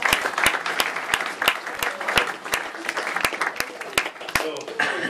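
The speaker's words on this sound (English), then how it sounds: "So I think you deserve a round of applause already." Wedding guests give a steady round of clapping, evenly spaced sharp claps from a nearby small crowd lasting throughout without speech.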